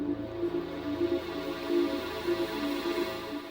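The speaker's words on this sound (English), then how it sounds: "when you load up toxic biohazard at first, it will have this arpeggio-like sound" Arpeggio-like pattern from the Toxic Biohazard synthesizer in FL Studio, a quick repeating sequence of rhythmic synth notes cycling steadily, moderately quiet with nothing else over it.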